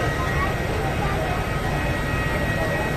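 An airliner arrives at Chennai airport, heard as a loud, continuous jet roar that holds steady throughout from fairly close by.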